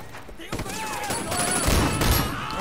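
Gunfire in the Sleeping Dogs video game: a rapid, loud fusillade of shots with rumbling low impacts, dense and continuous after a brief opening, with a voice heard over it.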